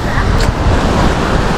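Sea waves wash on a beach, a loud continuous surf roar mixed with wind buffeting the microphone, close and unbroken.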